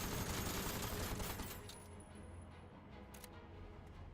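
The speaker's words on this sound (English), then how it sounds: "Machine gun." Machine gun fire in the noir smuggler RPG Aether & Iron, a loud, dense rattling burst that fades into a lower, steady crackle of rapid shots.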